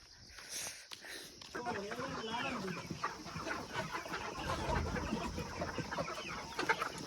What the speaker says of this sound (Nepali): कुखुरा हेर्नुहोस्, हेरमा के भएको यसलाई